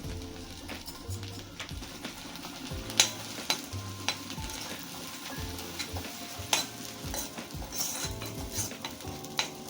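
Ginger-garlic paste with coriander, cumin and onion paste frying for a seafood crab fry, with steady sizzling under repeated spoon scrapes and clinks against the pan, close and continuous.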